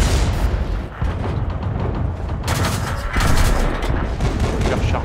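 Tank cannon fire and battle noise in the World of Tanks video game: dense, loud booming blasts and rumbling impacts crowd together continuously, with a sharper burst of shots near the middle.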